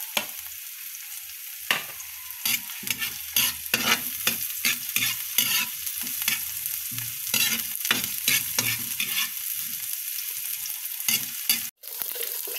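Garlic, ginger and onion sautéing in a pan, a continuous bright sizzle broken by frequent rhythmic spatula strokes and scrapes, close and steady with a brief dropout near the end.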